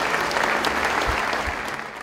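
Steady applause fills a government building as a justice minister departs office, dense clapping from a crowd holding at an even level throughout, with no talk.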